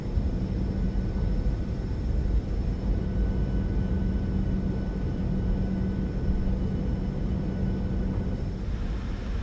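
An airliner taxiing past a terminal in Microsoft Flight Simulator, a Southwest jet rolling fast at Cancun: a steady, loud low engine rumble and drone with no breaks or talk.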